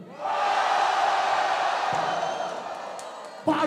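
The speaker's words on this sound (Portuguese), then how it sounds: "Barulho pro trio do Refel" A crowd at a rap battle semifinal breaks into loud, sustained cheering, whooping and shouting that fills the space, then gradually fades before a sudden sharp thump near the end.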